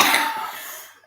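One short, sharp cough from a person nearby, quickly fading to silence.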